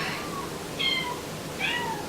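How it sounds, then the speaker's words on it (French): A pet cat meows indoors, three short, fairly close cries spaced about a second apart over a quiet room hum. "c'est Coton qui miaule"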